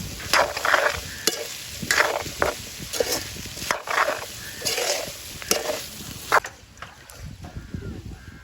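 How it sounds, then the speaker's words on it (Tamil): Elephant foot yam sautéing in a pot at an outdoor Jaffna village cooking, rhythmic loud stirring scrapes and clanks over a low sizzle, with wind noise outdoors. "வதங்கி கொண்டு வருகுது கருணக்கிழங்கு"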